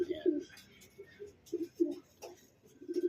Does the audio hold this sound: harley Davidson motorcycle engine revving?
no